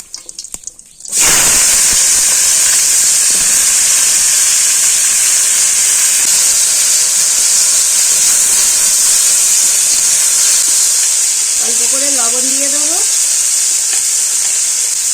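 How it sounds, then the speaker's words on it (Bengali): Red potatoes and gime greens hit hot oil tempered with cumin seeds, bursting into a loud, continuous sizzle after a brief quiet start, with a steady frying hiss throughout and a faint voice near the end. "তেল গরম হয়ে গিয়েছে আমি জিরের ফোড়ন দেবো লাল আলু আর ঘিমে শাকটা"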